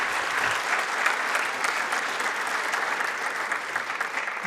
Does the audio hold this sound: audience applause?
yes